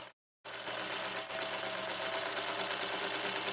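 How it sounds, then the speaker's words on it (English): A sewing machine stitching a quilted pillow cover, running loud and steady at close range with a fast, even whir after a brief silent gap at the start. "I start on a straight edge, and then I'm just going to sew"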